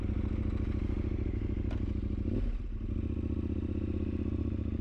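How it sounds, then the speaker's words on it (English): A motorcycle engine drones steadily at low pitch throughout, with a brief clatter and scrape in the middle as the ride continues. "as we get on the motorcycle, head out there, hit the road"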